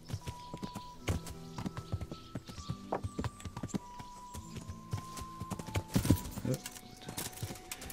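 Rhythmic clip-clop of horse hooves at a brisk pace, steady and close, with a horse's whinny and background tones from the video game Kingdom Come: Deliverance around it.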